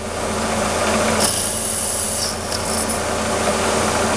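A metal lathe chamfers a spinning nut blank, giving a steady, loud scraping and rasping cut with a constant machine hum throughout and no talking.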